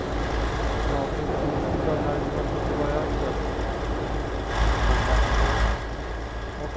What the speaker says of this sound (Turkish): Motor sesini biraz fazla açtım.